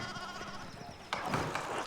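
Sheep in the Pentiment video game bleat faintly twice, a short bleat followed by a louder, rougher one near the end.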